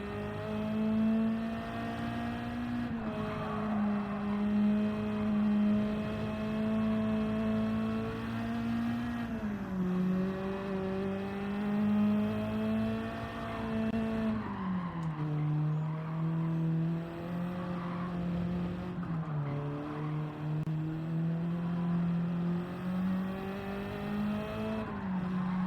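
A race car engine in Gran Turismo 7, a loud, steady whine that climbs and dips through gear changes over a long stretch, with occasional tire squeal and no talking.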